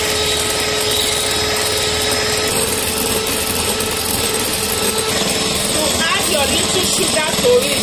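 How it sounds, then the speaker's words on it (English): An electric whisk beats egg whites with sugar for tiramisù, giving a steady, close motor whir with a dense buzzing hum that holds throughout without pause. "So now you start whisking your white egg."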